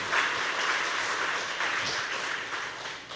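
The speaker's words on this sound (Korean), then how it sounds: "박수 한번 해주세요" Church audience applauding a praise team during a Korean service: a steady wash of clapping from many hands, sustained and fairly loud throughout with no talking over it.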